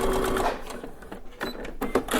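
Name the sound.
Baby Lock Brilliant sewing machine stitching a face mask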